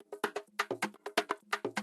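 A tech house drum loop of punchy kicks and crisp percussive hits in a tight, repeating groove, about four hits per half second, fairly quiet and with no voice over it.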